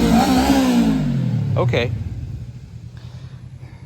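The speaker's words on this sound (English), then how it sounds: "now it's a motorcycle man on a 300cc, it sounds like" A 300cc motorcycle passes close by, its engine note loud at first and then falling away into the distance as the machine drives off, with a brief word spoken over it.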